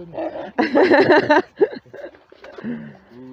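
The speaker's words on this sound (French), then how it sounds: "Elle aboie, c'est pour dire bonjour." A dog gives a short burst of loud, close barks and yelps, then quieter whimpering sounds, outdoors on a Sunday-morning walk.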